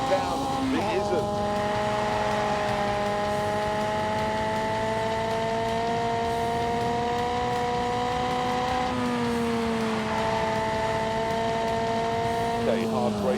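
Engine of a car with soft 1980s springs in The Grand Tour Game, revving in steady droning pitches that climb and drop through gear changes, with a dip for hard braking near the end and someone talking over it.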